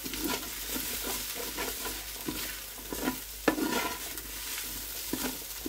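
A knob of butter sizzles in the pot of a Ninja multi-cooker, a steady close frying hiss with occasional scraping and stirring clicks, fairly quiet and without speech.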